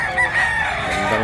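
A rooster crows once in a brief, close, loud call at a market where sellers bring fighting cocks, its strained harmonic cry filling the short moment.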